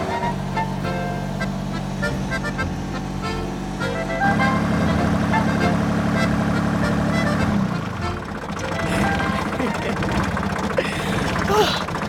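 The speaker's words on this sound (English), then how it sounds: "driving a tractor backwards down the Swiss Alps definitely wasn't in the original job description" A tractor engine drones loudly while the tractor reverses down a slope in the Swiss Alps; the steady motor note shifts in tone partway through, with no voices.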